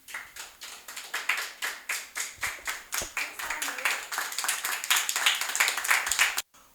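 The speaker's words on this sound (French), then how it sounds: "Je vous demande de l'applaudir s'il vous plaît." An audience claps for a singer at a church youth event, a steady rhythmic beat of hand claps, about two or three per second, fairly close and even in loudness, that breaks off abruptly near the end.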